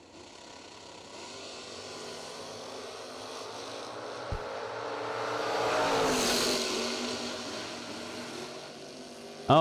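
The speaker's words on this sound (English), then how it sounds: "I heard throttle ripping like crazy down there." Drag racing wagons run at full throttle down the strip, heard from far off as a distant engine roar. The sound swells to a broad peak midway, then fades under a steady background hum.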